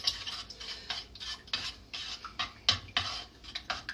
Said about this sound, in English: So I'm going to start the eggs first and get them a little mixed up inside of the pan.